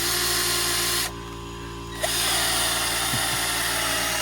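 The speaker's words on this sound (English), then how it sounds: "Drill her out" A power drill bores pilot holes for deck handrail posts outdoors, a loud continuous whir that drops away briefly for about a second and then runs again.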